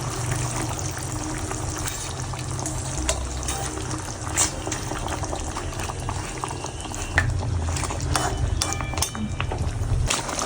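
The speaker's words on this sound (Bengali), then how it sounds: "তো দেখো ঝোলটা ফুটে এসেছে" Fish curry gravy bubbles in a pot, a continuous close sizzling and bubbling with small pops scattered throughout at a steady moderate level.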